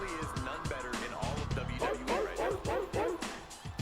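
A dog yips, whimpers and barks in a rapid run of short calls amid busy background sound, with people talking over it throughout.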